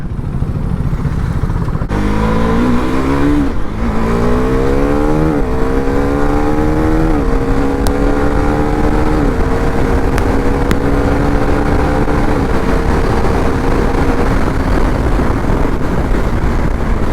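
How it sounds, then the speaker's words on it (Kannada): A KTM Duke 390 Gen 3 motorcycle accelerating hard, engine revs climbing in repeated steps as the quickshifter makes quick upshifts, loud and close over steady wind roar. "ಇದು ಅಪ್ ಶಿಫ್ಟು ಯಾವಾಗ ಸ್ಮೂತ್ ಆಗ್ತಿದೆ ಅಂದರೆ ಒಂದು 7000 RPM ಮೇಲೆ ಹೋದಾಗ ಒಂದು ಸ್ವಲ್ಪ ಸ್ಮೂತ್ ಇದೆ ಅಪ್ ಶಿಫ್ಟು"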